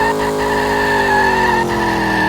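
In a racing video game, a car's tires squeal in a loud sustained skid over a continuous engine whine, close and unbroken, with no talking.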